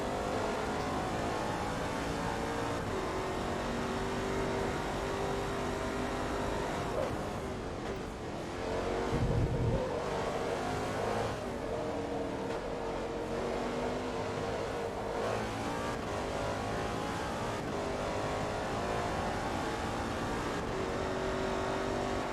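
An LMP1 prototype race car's engine in Forza Motorsport 2 drones steadily and loudly for the whole stretch, a sustained high-revving whine with brief pitch shifts as it upshifts and accelerates.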